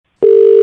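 A steady telephone dial tone sounds loud and clear for about half a second as a call is placed for a radio prank call.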